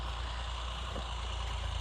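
Massey Ferguson 9500 tractor pulling a Green field cultivator while ploughing a field: a continuous, loud, low diesel engine drone that holds steady throughout, with no talking.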